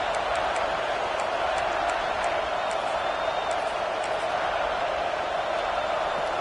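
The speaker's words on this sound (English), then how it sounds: "And you just know the home crowd is loving this." Home crowd at a Penn State college football game, a dense, continuous stadium roar of cheering and whooping at a distance, steady and loud throughout.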